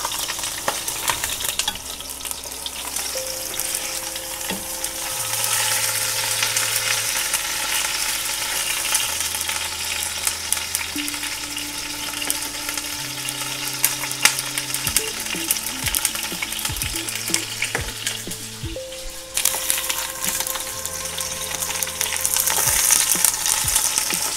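Chicken pieces browning in a frying pan for a beer and Maroilles cheese sauce dish, giving a steady bright sizzle throughout, partly under background music, with no talking.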